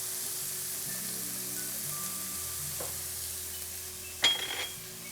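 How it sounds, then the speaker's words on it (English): Oil sizzles steadily in a pan before onions are added, with a constant hiss, a metal utensil clinks once near the end, and soft music plays underneath. "once you start hearing that sizzling sound"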